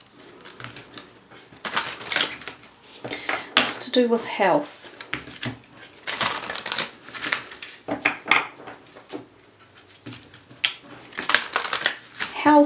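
Large oversized tarot cards being shuffled in repeated bursts of riffling and sliding card noise, close and fairly loud, with a person talking intermittently over and between the shuffles.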